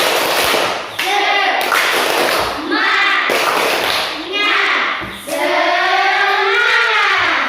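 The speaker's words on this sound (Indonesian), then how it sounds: "Ayo tepuk tangan dulu untuk kita semua." A class of schoolchildren claps hands together in rhythm, sharp bursts of group claps in repeated patterns between loud chanted voices, close and energetic.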